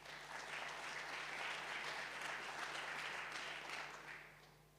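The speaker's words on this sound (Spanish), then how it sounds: "Un aplaudiment, sisplau." An audience at an indoor conference on climate change and vineyard adaptation applauds, a dense, sustained wash of clapping that swells, holds for several seconds, then tapers off toward the end.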